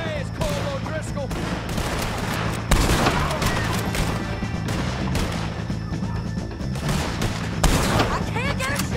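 Gunfire in a Red Dead Redemption 2 shootout against the O'Driscolls, repeated loud rifle and pistol shots cracking at irregular intervals amid battle noise, with people shouting over the fight.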